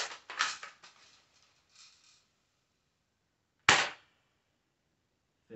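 Airsoft BBs strike a BB trap target: a cluster of rapid sharp impacts with short rattling decay, then after a pause one more loud crisp hit, close and alone with no talking.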